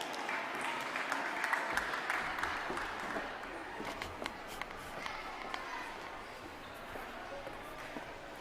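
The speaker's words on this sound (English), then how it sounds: "A big applause for Huga." Audience applause at a live stage event of a chess festival, steady and fairly faint, with some scattered louder claps over a diffuse room hum.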